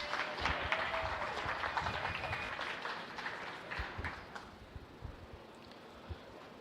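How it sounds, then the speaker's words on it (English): Applause from a county fair beef show crowd, spread thin and fairly faint, with scattered claps mixed with outdoor rustle and wind noise that fade toward the end. "Let's give this young man a round of applause."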